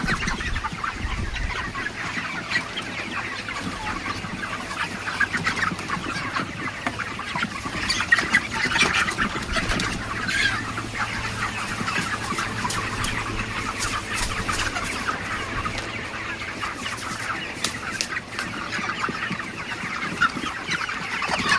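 Chickens cluck and call steadily in a farmyard, a mix of hens and fowl close by over constant background noise, with no talking.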